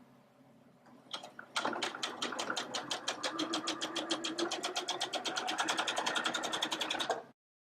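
A sewing machine stitches down the second side of a V-neck, starting with a few slow stitches before settling into a fast, steady rapid-fire run, close and clear, then stopping abruptly.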